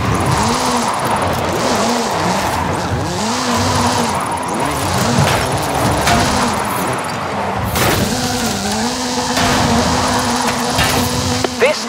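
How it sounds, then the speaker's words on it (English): Hoonigan Gymkhana 10 Ford Focus RS RX with a 2-litre turbocharged front-mounted engine and all-wheel drive in Forza Horizon 5, revving hard and bouncing off the limiter, with tire squeal during drifting. The engine stays loud and continuous throughout, and a voice talks over it. "Mr. Kenneth Block's Hoonigan Gymkhana 10 Ford Focus RS RX. 2-litre, turbocharged, front-mounted engine and all-wheel drive."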